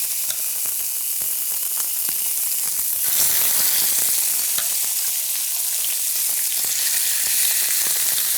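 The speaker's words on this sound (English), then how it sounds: "And now we're going to put these in the pan, skin side down. We want to sear them and brown this." Chicken pieces searing skin side down in a hot pan make a loud, constant, bright sizzle with crackling spits and pops, steady for several seconds with no talk.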